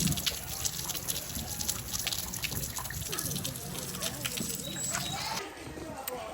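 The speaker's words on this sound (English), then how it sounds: "I heard some water trickling down." Water trickling near the Kickapoo River, heard close and continuous as a bright, splashy babble with steady droplet textures. It runs for several seconds before softening slightly near the end.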